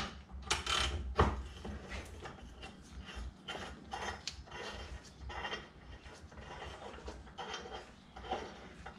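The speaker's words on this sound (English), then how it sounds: "Stick a socket on there, ratchet, and just unturn." A socket ratchet clicks steadily as it unscrews a part of a Campbell Hausfeld HL431500 air compressor clamped in a vise, with repeated ratcheting bursts and some clunks, up close.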